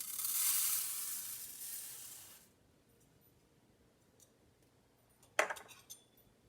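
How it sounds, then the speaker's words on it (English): Toor dal roasting in a small pan on a stove gives a soft, hissing sizzle that fades after a couple of seconds, followed by near quiet and a brief scrape or stir near the end. "I took a little pan and I just roast this dal little bit."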